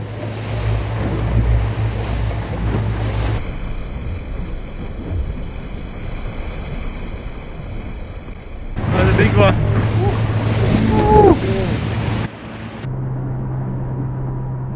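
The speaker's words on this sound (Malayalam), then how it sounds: "അങ്ങനെ ഇന്നത്തെ മീൻപിടുത്തമൊക്കെ കഴിഞ്ഞ് ഞങ്ങൾ നേരെ തിരിച്ച് കരയിലോട്ട് ഇങ്ങനെ പൊയ്ക്കൊണ്ടിരിക്കുകയാണ്" A fishing boat heads back to shore on the open sea, its engine droning steadily under heavy wind buffeting and rushing water, loud and close, with a brief voice partway through.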